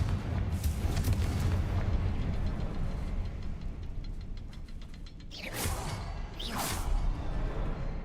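Rumbling fiery blasts of the Confringo spell in the video game Hogwarts Legacy, a sustained roar followed by two bright whooshing bursts near the end, loud and close.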